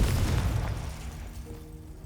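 Confringo blasting spell going off in Hogwarts Legacy, a loud low boom that rumbles and decays over about two seconds with a faint ringing tail.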